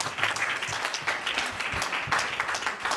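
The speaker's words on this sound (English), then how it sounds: "give her a good round of applause" A crowd in Clarendon claps for a woman at a centenarian's 100th birthday celebration, a sustained round of applause with uneven swells, no voices over it.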